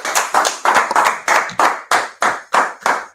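Clapping in a class setting, loud, close, and in a fairly regular rhythm of about ten sharp claps, with no speech over them.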